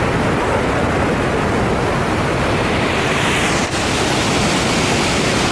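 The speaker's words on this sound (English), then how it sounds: "That sounds like a lot of water." A dense, loud roar of a waterfall's rushing water fills the whole clip without a break, steady and close, with no voices.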